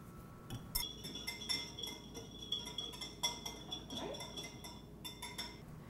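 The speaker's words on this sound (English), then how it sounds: "Now I'm just going to give this a good stir with my whisk." A whisk stirs salad dressing in a bowl, making light rhythmic metallic clinks and taps against the sides, fairly faint and close, with no talking.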